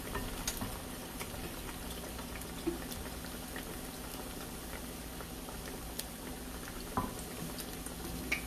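Salmon croquettes fry in hot grease with a steady, dense sizzle and crackle, punctuated by occasional louder pops, heard up close without talk.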